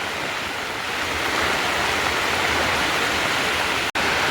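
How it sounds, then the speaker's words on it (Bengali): Heavy storm rain pounds steadily on a tent, a dense, loud, unbroken roar of water with a brief cut near the end. "ঝড় একটু কমেছে কিন্তু প্রচণ্ড বৃষ্টি হচ্ছে।"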